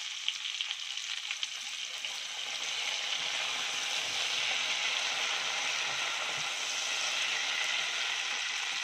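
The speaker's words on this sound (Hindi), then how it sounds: "अब डालूंगी ये सोया सॉस।" Soy sauce hits a hot pan during cooking of a chilli egg curry, and a loud, steady hiss of sizzling swells after a few seconds and holds, close and continuous.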